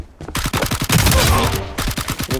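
Rapid gunfire bursts in Valorant Mobile played on an iPhone 6, loud and close with sharp repeated shots running through the whole stretch.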